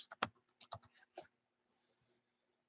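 Quick bursts of typing on a computer keyboard, a rapid cluster of clicky keystrokes followed by a short pause and a softer, lighter patter of keys, close and otherwise quiet.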